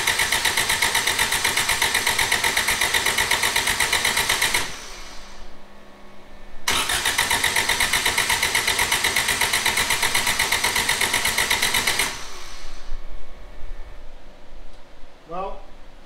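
A cammed Toyota 20R engine fitted in a Suzuki Samurai cranks, fires and idles with a loud, steady, close mechanical rattle, cuts out, restarts for several more seconds, then drops away, leaving quiet handling noises.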